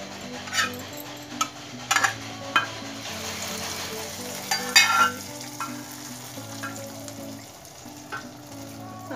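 Spices sizzle steadily in hot oil for a tadka for sweet vermicelli, with a spoon stirring and occasional clinks against the pan, close and continuous.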